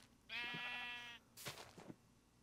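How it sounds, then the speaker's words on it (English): Sheep in the Minecraft video game bleat twice, one long wavering bleat followed by a shorter one, both faint and alone with no talk. "one, two, three, four, five, six blue sheep, and one, two, three, four yellow sheep"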